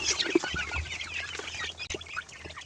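A flock of one-month-old chicks chirps and peeps continuously, many small overlapping high calls close by with a few low clucks.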